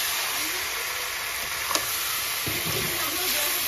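Duck meat slowly browning in a pan for a home-style Bengali curry gives a continuous close sizzle with a few brief clinks and stirring knocks, no voices over it.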